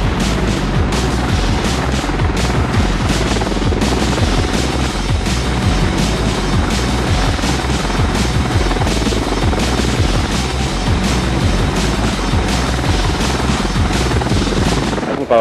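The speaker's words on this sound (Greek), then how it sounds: "Έχουμε παραλάβει τα νέα 12 επιθετικά ελικόπτερα" An Apache Longbow attack helicopter, an upgrade of the AH-64A, roars nearby. Its loud, continuous rotor thumping and turbine whine fill the whole stretch, with no talking.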